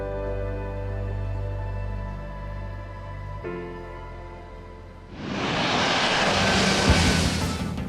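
An Airbus A350 with Rolls-Royce Trent XWB engines produces a steady tonal engine hum, then a loud broadband jet roar swells in and holds to the end.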